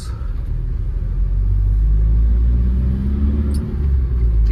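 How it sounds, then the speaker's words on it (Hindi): Diesel engine of a used Tata Safari Storme SUV while driving in third gear, a loud low rumble from inside the cabin with slight rises in revs, no talking. "पंची है इंजन अपना डीजल का जो है, बढ़िया इंजन है"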